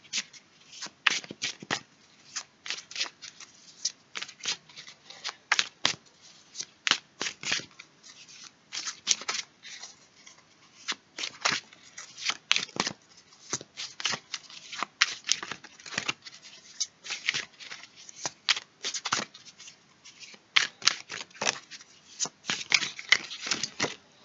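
Tarot cards being shuffled by hand, with soft papery riffles and light slaps repeating in an irregular rhythm, close and quiet, with no talk.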